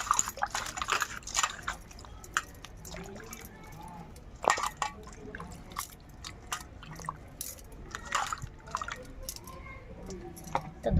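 Peeled raw papaya being washed by hand in a bowl of water, with close, irregular splashes, drips and wet squishing sounds coming in bursts, fairly quiet overall.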